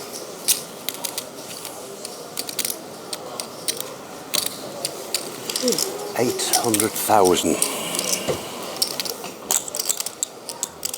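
Poker chips click and clatter in rapid, irregular bursts as a player shuffles them at a World Series of Poker Main Event table. The clicking sits close, mixed with the murmur of a crowded room and brief speech.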